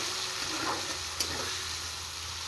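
Tomatoes with ginger sizzle softly in a pan, a steady, faint frying hiss with one small clink of a utensil partway through.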